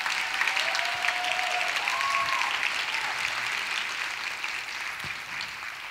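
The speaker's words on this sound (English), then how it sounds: "I would love a huge applause for our tech staff" Steady audience applause at an evening fall extravaganza show, a continuous dense wash of clapping from a large crowd, fairly loud and tapering gently toward the end, with a faint whistle or cheer briefly rising within it.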